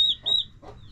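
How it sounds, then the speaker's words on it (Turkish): A turkey on a farm gives a few short, bright calls close by, with brief pauses between them and no voices. "Aha hindimiz."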